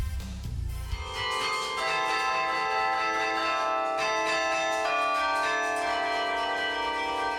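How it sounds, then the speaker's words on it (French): The 49-bell carillon of the church of Saint-Jean-Baptiste in Wavre, Belgium, rings out in a melodic sequence, rich overlapping tones sustaining and blending, clear and fairly close. "Au son des 49 cloches du carillon de l'église Saint-Jean-Baptiste"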